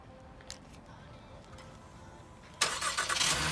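A 2018 Honda Pilot engine cranks and fires up via remote starter, catching abruptly after a quiet stretch and settling into a loud, close idle.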